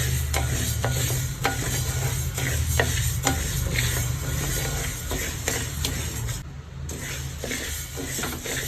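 Steady scraping and rustling of a spoon stirring dry lentils roasting in a hot pan for idli powder, continuous with faint sizzling and occasional clinks, close by.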